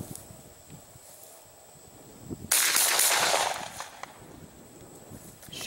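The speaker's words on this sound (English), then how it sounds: "we'll put a couple more rounds to make sure. Three rounds, quick as I can." A Remington 1100 semi-automatic shotgun fitted with a Teflon O-ring fires a rapid string of rounds outdoors, merging into one loud, dense burst of about a second against quiet ambient background.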